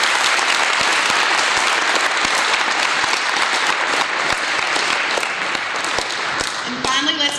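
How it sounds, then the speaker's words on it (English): An audience at an Army and Pro Football Hall of Fame award ceremony claps steadily in sustained, dense applause that holds at a loud, even level to the end, with a voice briefly heard near the close. "Let's give a big round of applause to the U.S. Army"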